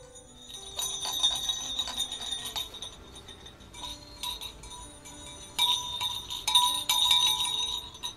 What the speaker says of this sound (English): I'm just taking that little jingle bell from the Dollar Tree and some ribbon, and I'm just pulling it through the little pot